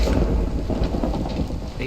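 Minecraft thunderstorm with a lightning strike: a brief, loud, broad rumble of thunder that swells and fades over about two seconds, with no speech.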